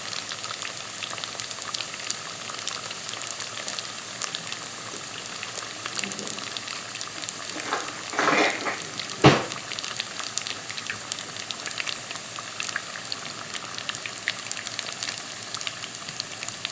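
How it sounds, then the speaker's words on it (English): Jalapeno bacon wonton poppers deep fry in hot oil four at a time, giving a continuous close bubbling sizzle with a brief louder surge of crackling partway through. "I'm going to fry about 4 of them at a time."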